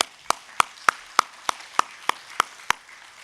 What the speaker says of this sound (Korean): 박수 치셨는데 박수 치시죠?